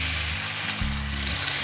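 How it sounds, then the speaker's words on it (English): Red wine hits a hot saucepan of cooked shallots and sizzles loudly, a dense, continuous frying hiss close up with a low steady hum underneath. "We're going to deglaze some red wine inside the saucepan."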